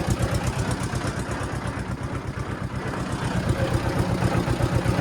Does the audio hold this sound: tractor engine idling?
yes